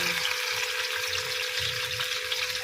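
Steady, dense sizzling of galunggong fish frying in hot oil in a pan, close and continuous without pauses.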